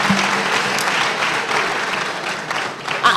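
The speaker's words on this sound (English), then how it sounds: "A round of applause, man." University event audience giving a round of applause, a thick, sustained patter of many hands clapping close and loud throughout, with a small swell near the end.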